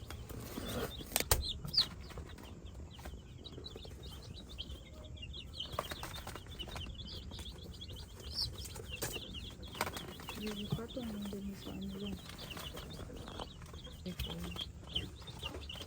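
Purebred Darag chickens at a breeder's farm, with scattered clucks and short calls over steady background noise and a few wing flaps, fairly close, along with some talking.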